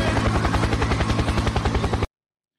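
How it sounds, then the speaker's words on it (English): A helicopter's rotor chops in a fast, steady rhythm, loud and close, before cutting off abruptly into silence. "Helicopter, helicopter."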